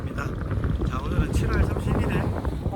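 The fishing boat Haneul Fishing runs at sea near Sapsido, a low rumbling engine and wind buffeting the microphone, with someone talking over the noise.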